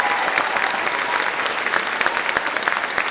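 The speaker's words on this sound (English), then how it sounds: "Let's give these guys a round of applause." Audience applause for honor band students standing at a school band winter concert, a dense, steady wash of many hands clapping at once, loud and continuous throughout.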